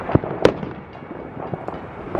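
Fireworks set off at home for the Fourth of July in an American neighborhood: two sharp bangs in quick succession, then scattered softer crackles and distant pops.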